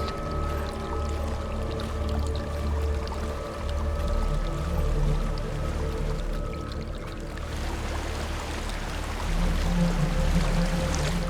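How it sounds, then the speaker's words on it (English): A waterfall rushes in Hellblade, a constant dense wash of falling water at steady loudness, with a low droning tone beneath and the roar swelling slightly toward the end. "There's a waterfall."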